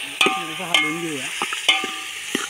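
Chicken rassa curry is stirred in a pot over an outdoor wood-fired chulha: a few sharp scraping clacks of the spoon ring out over a steady, soft sizzle of frying.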